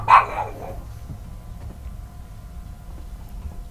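Indoor pet dogs, excited at feeding time, give a short loud bark near the start, then fall quiet under low room noise and faint background hum.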